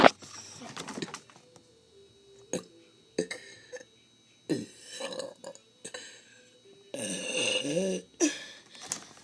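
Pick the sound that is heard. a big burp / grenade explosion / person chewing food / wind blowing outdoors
a big burp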